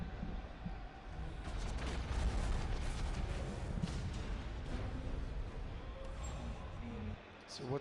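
A giant mech exploding in the game Hawken, a fairly faint, sustained rumbling blast with crackling debris, under a person talking.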